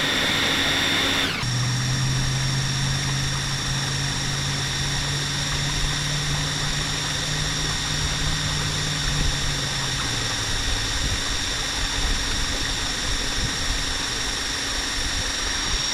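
An electric drill drives a kayak propeller at speed, a steady high whine with a lower motor hum that starts after a sharp onset and slides slightly lower near the end, over continuous water and wind noise.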